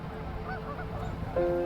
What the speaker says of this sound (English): Yes! The greater white-fronted goose.